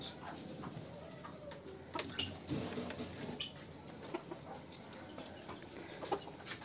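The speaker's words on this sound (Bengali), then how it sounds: "এখানে এক পেয়ার কালো সিল্কি আছে, খুব সাধনার কালেকশন" Black Silkie chickens on a farm, giving soft, scattered clucks at a distance amid light ambient noise, with a few sharper nearby knocks and rustles.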